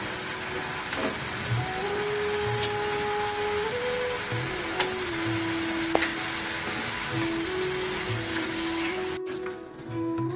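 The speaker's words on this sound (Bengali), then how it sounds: "আমি ডিমগুলো এর মধ্যে দিয়ে এটি ভালোভাবে কষিয়ে নেব" Eggs being sautéed in a frying pan for Bengali dimer hingi, a continuous close sizzle with occasional scraping stirs and a brief clatter near the end, no talking.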